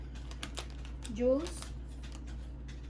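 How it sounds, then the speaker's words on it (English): A pet cat named Jules scratching at something in a home kitchen during breakfast cooking, with a series of soft, quick scratchy scrapes and taps at close range, and a voice briefly calling out over them. "that was my cat. She was scratching something to get attention"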